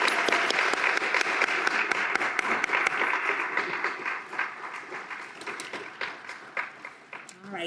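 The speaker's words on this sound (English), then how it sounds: "can we give our award winners another round of applause" Sustained applause for award winners at an honor society reception, a full room clapping steadily, then thinning into scattered claps with voices over it near the end.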